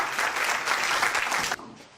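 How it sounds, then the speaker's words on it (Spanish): An audience at a lecture on education and democracy applauds to welcome the speaker, a brief wash of many hands clapping at moderate loudness that cuts off sharply near the end. "recibimos con un fuertes aplausos a Ricardo"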